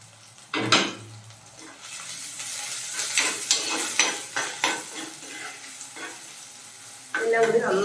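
Sliced onions and green chilies sauté in a pan for a Kerala fish curry, with a steady close sizzle and repeated spoon stirs and scrapes against the pan.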